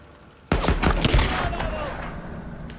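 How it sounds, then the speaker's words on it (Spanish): Pistol shots in the Days Gone video game on PS4, a sharp loud report followed by a dense burst of overlapping blasts and a rumbling decay, close and dominant. "Dos disparos de pistola, no fallemos."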